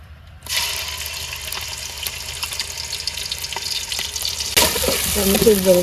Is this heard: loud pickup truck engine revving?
no